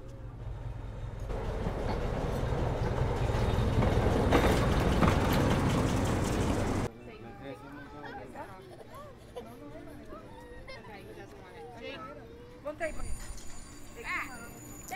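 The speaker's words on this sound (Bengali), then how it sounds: "ট্রেন এসে গেছে।" A small ride-on train pulls into a station, its loud rumbling, rattling run filling the first seven seconds before dropping away to quieter platform noise with scattered voices and a few brief clanks.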